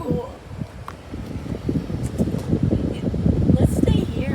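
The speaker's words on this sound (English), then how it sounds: "the wind is starting to pick up really good too" Strong wind picks up ahead of a lightning storm, a rushing low roar buffeting the microphone that builds steadily over a few seconds, with people talking underneath.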